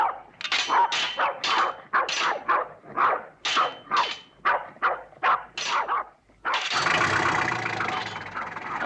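Dogs bark at a house in a rapid, loud run of about a dozen close barks, followed by a steady engine-like rumble.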